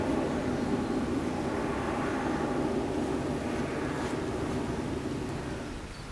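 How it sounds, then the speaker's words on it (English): Airplane flying over an open fishing lake, a steady broad drone that holds loud throughout and begins fading near the end, with no talk. "Another plane coming over."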